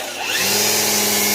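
A cordless string trimmer winds up from near silence into a loud, steady electric whine that holds close and unbroken for about a second.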